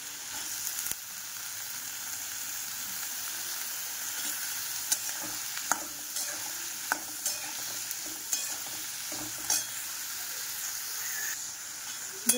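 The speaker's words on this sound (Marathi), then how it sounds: "आता ह्याला चांगलं मिक्स करून घेते" Fish and tomato sizzle in a frying pan under a steady hiss while a spoon stirs them, with sparse clicks and scrapes against the pan, close and moderate in level.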